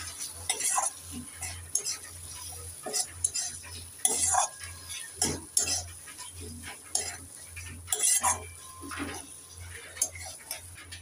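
Chopped capsicum being stirred in a cooking pan while kofta masala is prepared, with repeated scraping and clinking strokes of a utensil over a faint sizzle, steady and moderately close with no talking.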